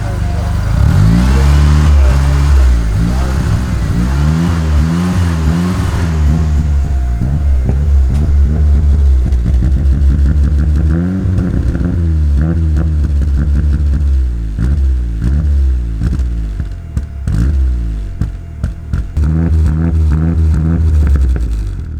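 A car engine being revved for a flame-shooting exhaust setup, with the fuel pump wiring rigged to a switch; loud, close rising and falling revs through most of the stretch, easing off near the end.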